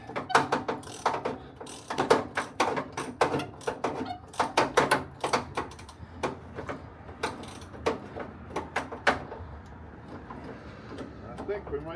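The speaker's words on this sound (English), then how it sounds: "you're spinning a wrench close to the battery" A ratcheting wrench is spun on a cab mount bushing bolt near a vehicle battery, producing quick repeated clicking bursts that thin out toward the end, close and fairly loud.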